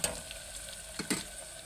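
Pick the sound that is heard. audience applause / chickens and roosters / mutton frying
mutton frying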